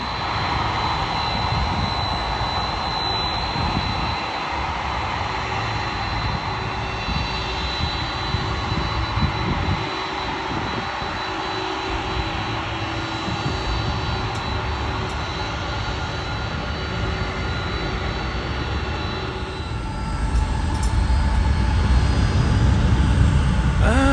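A jet airplane, an Atlas Air cargo plane near LAX, roars steadily and loudly throughout, its engine noise swelling and growing heavier near the end.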